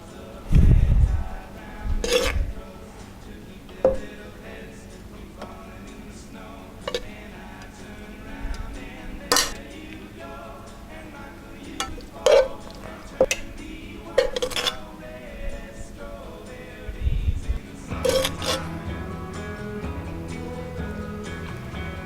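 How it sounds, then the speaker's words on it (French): Oysters being garnished with leeks and carrots in a kitchen: sporadic clinks and taps of utensils against shells and dishes, close and fairly quiet, with irregular pauses between the clicks. "maintenant on va garnir de poireaux et de carottes la partie creuse des huîtres"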